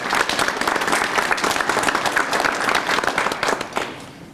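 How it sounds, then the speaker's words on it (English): Audience at a radiologic technology student pinning ceremony claps for a graduate, a loud, full burst of many hands that runs steadily and then thins and fades toward the end. "one more round of applause for all of these graduates"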